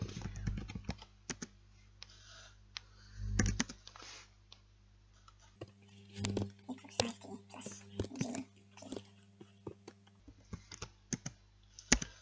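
Typing on a computer keyboard while entering equations, heard as close, quick runs of light key clicks in irregular bursts, mixed with quiet speech.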